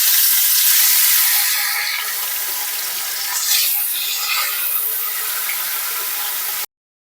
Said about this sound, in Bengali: তেল গরম হয়ে গেছে, এবার মাছগুলোকে দিয়ে দেবো।